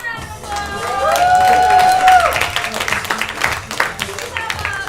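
Audience at a game-show style event breaks into applause and cheering, mixed with shouting voices, swelling then fading into scattered claps under talk.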